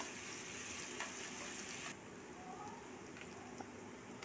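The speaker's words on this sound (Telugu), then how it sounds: "పచ్చి వాసన వెళ్ళే వరకు ఫ్రై చేసుకొని" Ginger garlic paste fries in hot oil for a fish curry, a steady soft sizzle and hiss throughout that drops a little in level partway through, with faint clinks over the continuous crackle.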